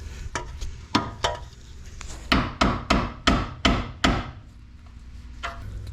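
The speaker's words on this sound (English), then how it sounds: "we're gonna use a little chisel and try to take it out" A small chisel hammered against a broken, stuck nut on a Subaru WRX during a coilover install: a series of sharp metallic strikes, close and loud, with a quick burst of about five evenly spaced blows in the middle.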